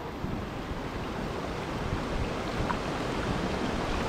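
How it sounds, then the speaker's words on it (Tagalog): Strong sea waves roar and churn continuously, mixed with buffeting wind noise, loud and close with no speech. "Uy, lakas ng alon."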